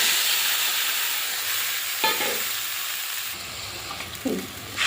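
Panch phoron tempering hissing in hot oil, a loud, steady sizzle that flares up with a couple of sharper bursts as dried mango water goes into the pan.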